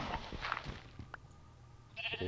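Several short bleats from sheep in Minecraft, including a black sheep, with clicks and other game sounds around them, moderately loud and close.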